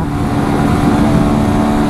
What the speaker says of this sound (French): c'est la moto qui me fait rouler comme ça.